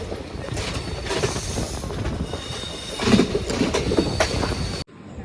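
Palaruvi Express train rumbling and clattering steadily as it slowly rounds a curve on the Ernakulam–Kollam line, wheel and rail noise continuous and close, with faint squeals, ending abruptly.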